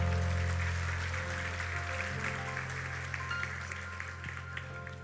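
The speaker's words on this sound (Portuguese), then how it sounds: "Aplauda ao Senhor." A church congregation applauds at a worship service, with the clapping starting strong and slowly thinning over a sustained musical backing.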